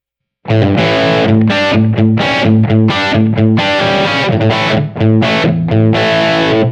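A loud, close electric guitar with a humbucker pickup plays crunchy amp-distorted chords in a steady rhythm after a brief silence, in a classic rock style tone.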